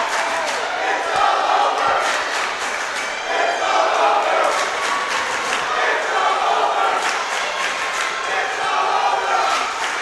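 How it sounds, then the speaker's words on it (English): Rams fans in a packed gym chant and cheer during a girls' high school basketball tournament game against the Valdez Buccaneers, a steady, loud crowd roar that rises and falls and fills the whole clip. "You can hear in the background the Rams cheering "It's all over.""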